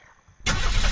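In Unturned, a car engine cranks to life after a near-quiet moment, jumping abruptly into a loud, steady idle roar that continues close by.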